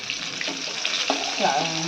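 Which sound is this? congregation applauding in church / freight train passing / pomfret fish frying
pomfret fish frying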